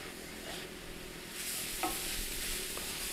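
Ground beef and onions frying together for a chili topping, a soft, even sizzle with a faint scrape of stirring, gently louder midway.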